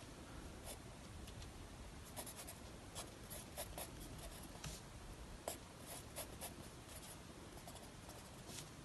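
Pen or marker strokes on a surface while a chemical structure is drawn, a quiet run of short scratchy taps and rubbing strokes in an irregular rhythm, close and alone with no talking.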